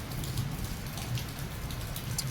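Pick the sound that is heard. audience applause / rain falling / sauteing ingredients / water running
rain falling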